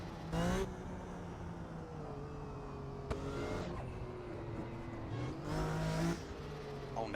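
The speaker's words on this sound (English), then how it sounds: "Oh, now I can hear a car." A race car engine in the Assetto Corsa racing game drones at moderate level, with a few brief louder bursts as cars rush by, no talk over it.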